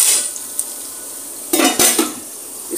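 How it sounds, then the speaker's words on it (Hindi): A lid goes onto a cooking pot in a home kitchen, giving a couple of close metallic clanks and rattles against a steady background hiss. "अब मैं इसको फिर कवर कर देती हूँ।"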